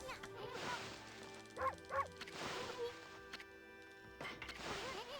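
A dog in the video game Okami barks twice in quick succession, sharp yips rising over steady game music and ambient effects, fairly close and moderately loud.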